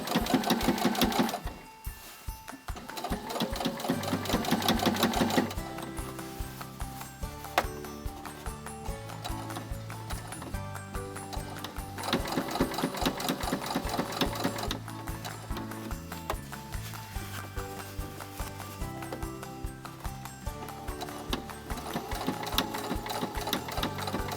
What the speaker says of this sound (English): And then we're sewing really close up against that edge to stitch this hole closed.